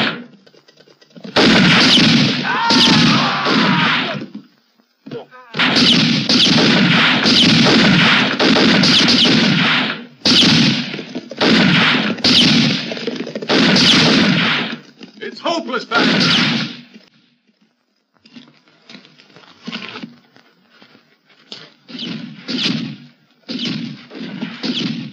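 Gunfire in a western movie shootout, a loud close run of shots in dense volleys, then quieter scattered bursts after a pause.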